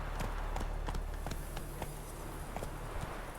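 Roach, a horse in The Witcher 3, gallops at a steady pace, her hoofbeats sounding as a rhythmic run of clip-clops over a low continuous rumble, moderately close and fairly quiet.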